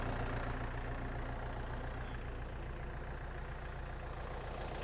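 A farm tractor idles steadily in a field before ploughing virgin soil with a 2-body plough, its low diesel rumble constant and close throughout with no clear start.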